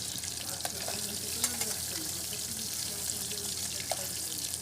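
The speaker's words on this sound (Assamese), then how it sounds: "তাৰ পিছত আকৌ মানে পিয়াজ ভাজি গ্ৰেভি বনাম।" Onions fry for a rohu fish curry gravy, giving a low, steady sizzle with light stirring clinks and a faint splash of running water, quietly and close by.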